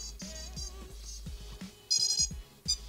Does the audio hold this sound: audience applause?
no